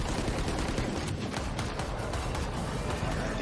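Rapid bursts of gunfire in a Valorant esports match as a player is finished off with a wall bang, dense cracking shots layered over busy game noise, no voices on top.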